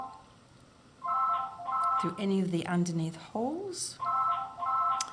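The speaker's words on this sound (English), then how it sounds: "That's my phone ringing, it always does that at the wrong times." Mobile phone ringing indoors during a button-sewing session, a repeating electronic melody in short bursts with gaps between them, heard over a person talking.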